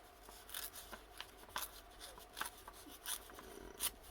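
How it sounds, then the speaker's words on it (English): Scissors snipping paper at a craft table while assembling a junk journal, a series of quiet, crisp cuts in an irregular rhythm, close and soft, with no talk. "And not those scissors, Lindsay."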